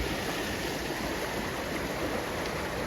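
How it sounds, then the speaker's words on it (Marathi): Steady rushing of a waterfall at Walan Kund, Mahad, falling from a hillside, a constant soft hiss heard from some distance with no voices. "जिकडे हा पाणी पडतो आहे बघा तिथून पाणी पडतं"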